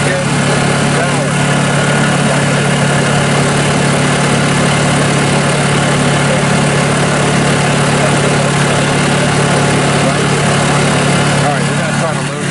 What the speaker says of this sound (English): This little Honda is running beautiful.